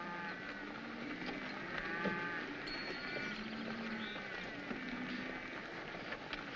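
A herd of 500 cattle on open grazing land lows repeatedly, several moos rising over a windy outdoor background, some nearer and some farther off.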